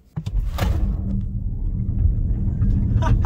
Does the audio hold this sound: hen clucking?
no